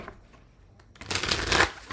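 A quiet pause, then a burst of riffling tarot card shuffling, loud and close, lasting under a second.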